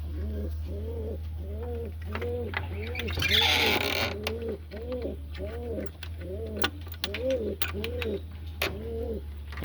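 Domestic pigeons in a loft coo in a steady series of repeated, throaty, rolling calls close by, about ten in a row, over a low constant hum and with a brief rustling burst partway through.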